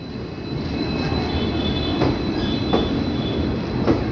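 The Kathgodam Lucknow Express, hauled by twin WDP4D diesel locomotives, rolls past close by with a steady loud roar and rumble of coaches and wheels and brief squealing accents. No one speaks.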